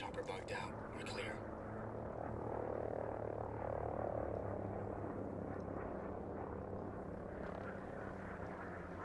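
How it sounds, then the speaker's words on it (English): Enemy helicopter in Ghost Recon Breakpoint, a steady rotor drone filling the scene at moderate loudness, continuous throughout, with brief voice chatter at the start and near the end. "Enemy helicopter, get low."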